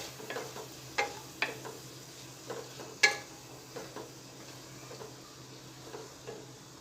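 Rice being stirred with fruit-coloured milk in a pan for sweet kesariya bhat: quiet, close spoon scrapes and several distinct clinks against the pan over a faint simmer, with no talking.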